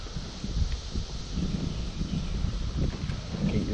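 Wind gusting across open backwater at a local park during a fishing outing, a steady low rumble of buffeting against the microphone with faint rustling, no talk.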